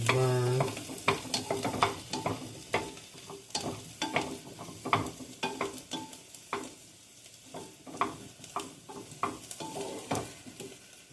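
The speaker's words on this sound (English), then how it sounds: "I continue to stir because I don't want my onions to burn." Onions fry in oil in a pan, with a steady close sizzle broken by repeated scraping and clacking strokes as they are stirred. No one speaks.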